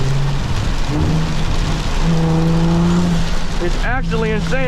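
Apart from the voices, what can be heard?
heavy rain hitting a car while driving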